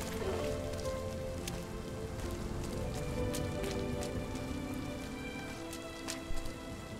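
Steady rain in the video game RiME patters densely on a surface, with scattered louder drops, continuous throughout and no talking.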